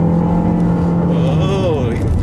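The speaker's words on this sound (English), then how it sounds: "So right there I floored it, and within half a second I got in power." A 2016 Ford Explorer with the 2.3 EcoBoost engine pulling hard at full throttle, a loud rising engine note sweeping upward near the end over a steady road roar.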